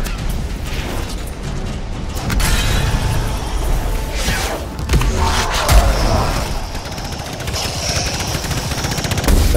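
Gunfire in the video game Anthem hits the player in a steady barrage of sharp, rapid shots and impacts, loud and close, with mechanical clatter and occasional booms layered over constant background noise.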